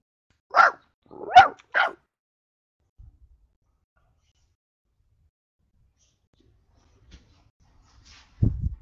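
A dog barks three times in quick succession close by, then quiet follows with a brief low sound at the end.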